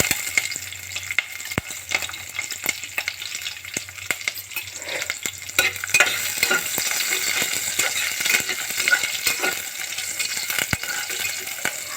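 Onion and curry leaves frying in oil inside a pressure cooker, a steady close sizzle with scattered crackles and pops and occasional stirring scrapes, no voices.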